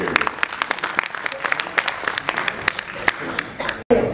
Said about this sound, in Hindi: बहुत सारी तालियां लीजिए।